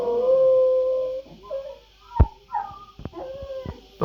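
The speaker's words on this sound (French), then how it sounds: "Désolé pour mon chien parce que Hugo n'aime pas être tout seul" A dog howls in a long wavering tone, then breaks into short whimpers and yips, close and fairly loud, with a few thumps.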